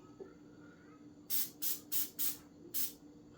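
Cooking oil is sprayed onto silicone crumpet rings in five short, crisp hissing bursts close by, against a quiet background.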